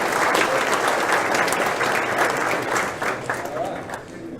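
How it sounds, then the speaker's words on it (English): An audience at a tech talk on zero clients and security applauds a speaker, a dense, full burst of clapping for about four seconds that tapers off, with faint crowd voices underneath. "Round of applause, please."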